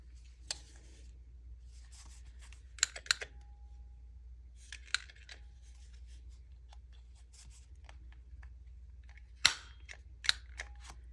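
A handheld corner rounder punch cuts paper corners while a junk journal notepad is made, giving scattered sharp clicks and snaps among soft paper rustling in a quiet room, with no talk.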